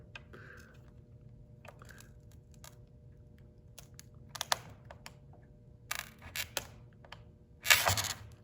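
A cutter scoring a picture frame, scattered short clicks and scrapes building to a few harsh, louder cutting bursts near the end, close up with no talk.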